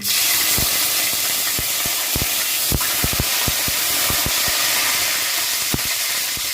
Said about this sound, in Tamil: கடுகு நல்லா பொரிஞ்சிடுச்சு